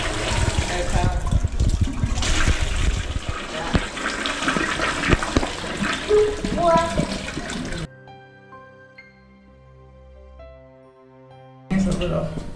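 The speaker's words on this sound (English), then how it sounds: "Oh, that's a powerful flush. Very powerful." A powerful toilet flush in a Moxy Hotel bathroom in Paris roars loudly for about eight seconds, then cuts to a quieter stretch with a faint tonal hum before a noisy burst returns at the end.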